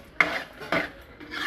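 Spoon scraping and stirring thickening sugar syrup in a pan, three separate scraping strokes at a steady pace, close up with no talking.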